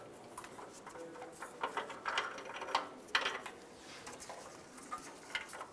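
Ratchet clicking quietly as an O2 sensor socket is turned on the upstream oxygen sensor of a 2002-2005 Ford Explorer, a soft irregular patter of ticks with small bursts spread over several seconds.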